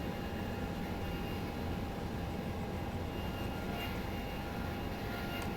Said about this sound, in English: I'll feather that #1 engine.